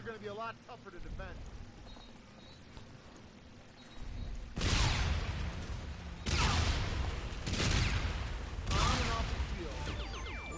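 Gunfire in the shooter Infinite Warfare, several sharp, loud bursts spaced a couple of seconds apart over a busy background of game noise, with someone talking underneath.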